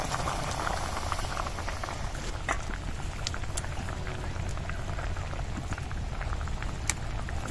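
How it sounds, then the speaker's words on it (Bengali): Curry gravy with soybeans and fried egg boils in a pan, a continuous soft bubbling and popping patter, steady and close with no voices. "ঝোলটা ফুটে গেছে, সয়াবিন ডিম ভাজাটা যে রেখেছিলাম দিয়ে দিচ্ছি।"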